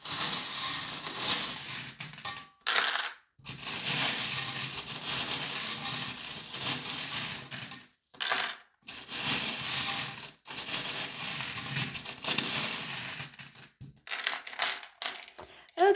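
Small tarot charms rattle and clatter as they are shuffled in the hands and cast out, in repeated jingling bursts broken by short pauses, close and fairly loud, with no speech.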